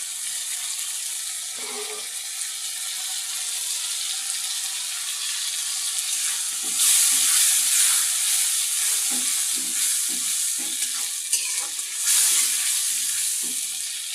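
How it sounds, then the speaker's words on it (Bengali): Chickpeas fry in a pan with a continuous close sizzle, joined midway by louder bursts of hissing and repeated scraping as they are stirred; no voices. "ছোলাটা ভাজা ভাজা করবো।"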